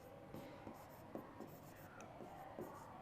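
Chalk or marker writing on a board during a lecture, a series of short scratchy strokes spaced about every half second, fairly close and alone.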